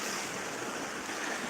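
Sea waves rolling in onto a Crimean beach under an overcast sky, a steady broadband wash of surf with no distinct breaks, moderately faint and continuous, with no voices.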